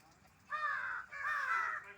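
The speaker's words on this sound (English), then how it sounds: "And wild crow was crying to see this hornbill." A wild crow caws twice near a feeding grey Indian hornbill, two harsh, drawn-out calls close to the microphone against a quiet background.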